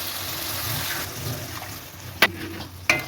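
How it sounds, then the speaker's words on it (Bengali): Water is poured into a simmering rohu fish curry masala with winter vegetables, a soft continuous splashing and trickle that is followed by a couple of sharp clinks near the end. "আমি জলটা দিয়ে দিচ্ছি"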